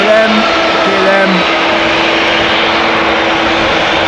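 KLM airliner jet engines at Amsterdam Schiphol Airport, a loud steady broadband roar with brief whining tones early on, continuous and close throughout.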